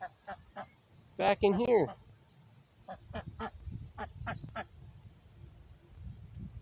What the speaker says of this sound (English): do you want to watch the ducks?